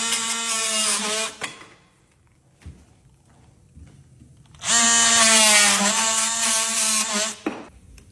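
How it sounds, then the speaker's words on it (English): A DEWALT 20V Max XR brushless oscillating multi-tool (DCS356B) cuts into sheetrock with two loud, high-pitched buzzing bursts, each over a second long, separated by a quiet pause. "Let's test out this DEWALT brushless motor oscillating tool."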